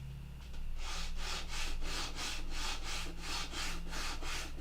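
Sandpaper rubs back and forth along the grain of a plastic Gen 4 holster clip, about nine even rhythmic strokes, close and clear with no talking.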